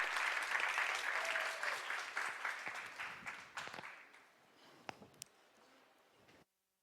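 Warm audience applause for a speaker at a closing keynote session, loud and dense at first, then thinning into scattered individual claps before fading to silence.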